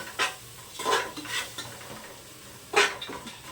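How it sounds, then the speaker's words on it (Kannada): Food frying in a pan while a simple home dinner is cooked, heard as a soft background sizzle broken by a few sharp, close scraping stirs of a spoon against the pan at irregular intervals, with no talking. "ಇದು ಫ್ರೈ ಆಗ್ತಾ ಇದೆ"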